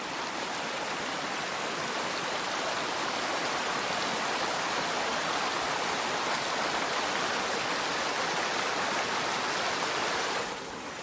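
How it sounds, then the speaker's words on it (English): A waterfall and creek in the woods rush steadily, a dense broadband wash of falling water heard close and unbroken, easing slightly at the very end. "We are gonna look at that waterfall one more time."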